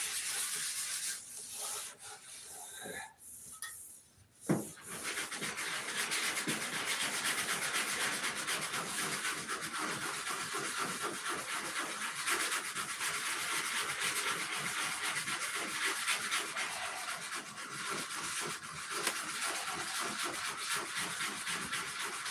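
Steady, continuous rubbing hiss of sanding with very fine 5000 grit sandpaper, running unbroken at an even level after a few brief scuffs and knocks at the start, close to the microphone with no talk.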